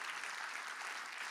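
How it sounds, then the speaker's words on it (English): Audience applause at a business event on small-business resilience in Asia, a steady wash of clapping that fills the whole short moment without pause. "so a round of applause"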